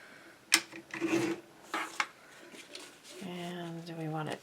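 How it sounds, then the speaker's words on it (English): Paper being trimmed for a handmade mini album: short rasping cuts and rubbing strokes in a few bursts, close and fairly quiet, with a voice speaking briefly alongside. "I'm going to trim off this side a bit."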